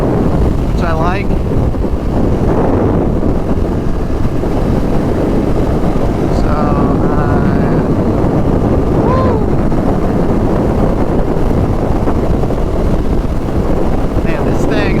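Wind roars constantly and loudly on a 2019 KTM 1290 SuperDuke R at riding speed, a dense rushing buffet that covers everything else from start to finish.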